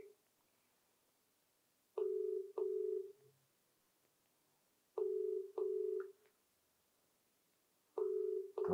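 A phone call rings while waiting to be answered, a ringback tone sounding in paired pulses about every three seconds, steady and thin as if heard through a handset, with silence between rings.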